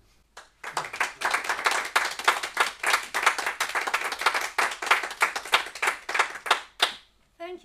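Audience at a folk festival evening concert claps in a quick, steady rhythm for several seconds, loud and close, ending abruptly with a few scattered claps.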